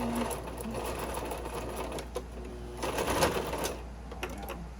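A sewing machine sews a zigzag stitch nearby with a fast, rattling mechanical chatter that runs steadily, briefly changing pace partway through as the thread gets caught and the machine jams.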